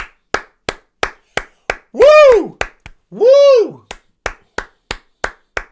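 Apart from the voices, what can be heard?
round of applause, clapping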